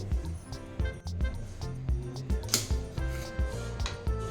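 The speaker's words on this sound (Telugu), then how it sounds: "మరీ పెద్దగా ఉండకుండా చిన్నగా ఉండకుండా ఇలా కట్ చేసుకుందాం" A knife cuts a cauliflower into medium-sized florets on a board in a kitchen, giving a string of close, irregular chopping thuds and taps.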